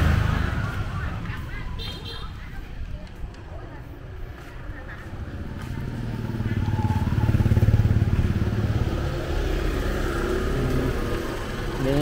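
Steady motor engine hum of a red Honda Lead scooter riding through street traffic in Saigon, with surrounding vehicle noise and faint talking mixed in.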